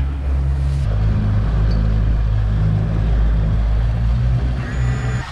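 A 700-horsepower Chris-Craft Catalina 34 motorboat engine runs loud and steady, a constant low rumble throttling up with rushing water noise throughout, no talking over it.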